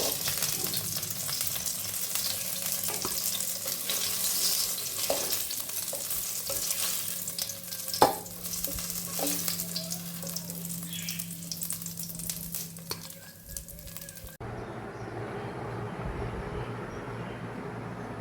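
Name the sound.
murmura (puffed rice) pakoras deep-frying in oil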